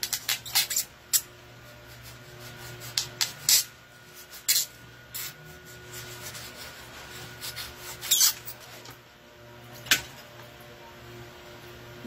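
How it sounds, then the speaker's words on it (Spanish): A foam Funko-style Peter Pan figure is carved by hand, giving soft, close rasping and rubbing strokes in scattered bursts over a quiet background hum. "Lo voy tallando."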